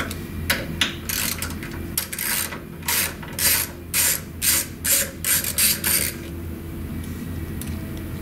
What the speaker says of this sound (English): Next step would be to remove the orifice itself using a 3/16 Allen wrench.